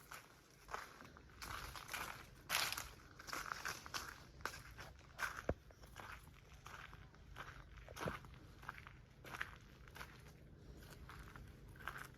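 Footsteps walking outdoors on a farm, a steady series of soft crunching steps at close range over about twelve seconds, with a faint rustly background and no clear talk.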